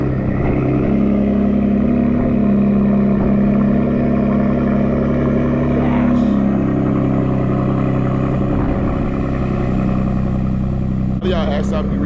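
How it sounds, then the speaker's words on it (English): A loud Ford F-150 EcoBoost pickup engine rumbles steadily on a cold start with a deep exhaust drone, its pitch shifting slightly as it idles, with a person talking over it. "this should be a really nice cold start"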